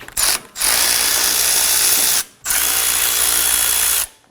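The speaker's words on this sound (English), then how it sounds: "We're going to be removing these two bolts using a 19mm socket and a small extension." A ratchet with a 19mm socket and small extension loosens brake caliper bolts on a 2017-2024 Nissan Armada, giving three loud, rapid clicking runs separated by short pauses, close up and with no talking.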